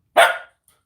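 A dog gives one short, loud, close bark, followed by silence.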